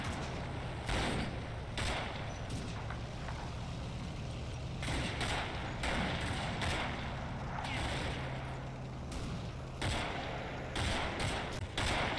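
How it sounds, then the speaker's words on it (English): Heavy gunfire rattles through a firefight in the WWII strategy game Combat Mission Fortress Italy, with repeated bursts and volleys crackling at a steady pace over a low rumbling backdrop. "My right flank quickly erupts into a heavy firefight"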